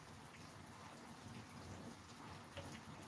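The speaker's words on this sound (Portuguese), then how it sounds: "Continua chovendo aqui em Piraquara." Rain keeps falling in Piraquara, a faint, steady wash of hiss with scattered soft drop taps and no talking.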